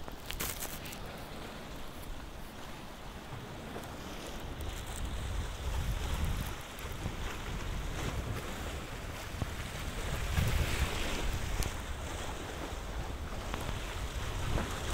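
Water sloshes and splashes in a canal below a stone embankment on a windy November seafront in Balaklava, a steady wash of surf-like noise mixed with wind rumble on the microphone and no voices.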